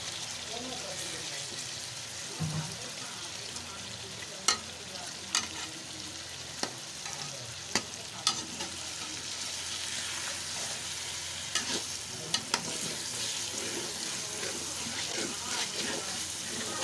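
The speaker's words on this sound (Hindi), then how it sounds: "इसको अच्छी तरह से भून लेंगे।" Fish pieces fry in a pan for a fish curry, giving a constant moderate sizzle with periodic sharp clicks and scrapes of a utensil, while someone talks over the cooking.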